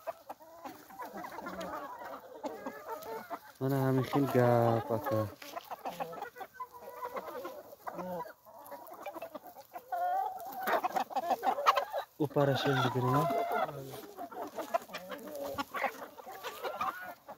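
Loman Brown hens and roosters clucking and calling in a poultry yard, a steady chorus of fowl with louder bursts, while someone talks throughout.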